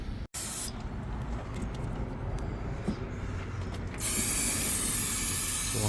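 A continuous brake cleaner aerosol spray hisses steadily for several seconds on a Mitsubishi L200 K74 4D56 engine, growing louder and brighter near the end, with faint mechanical clicks underneath.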